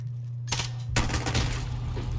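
Gunfire in the Call of Duty video game, inside a hidden bunker: one sharp shot, then a louder burst that rings on and fills the rest of the moment.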